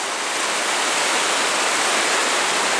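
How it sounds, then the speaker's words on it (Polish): Bystrzyca Dusznicka river between Polanica-Zdrój and Szczytna running high in flood after storms and downpours, its strong current giving a loud, steady, close rushing roar that stays unbroken throughout with no voices. "Duży stan wody, niesamowicie silny nurt."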